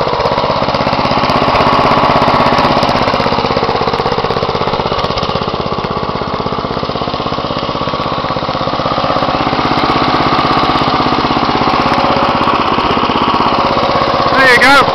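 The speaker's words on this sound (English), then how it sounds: "Briggs and Stratton engine, 11 horsepower, electric start." An 11-horsepower Briggs and Stratton engine on a small Wheel Horse garden tractor runs steadily up close, a loud buzzing, rattling drone with a slight rise near the end.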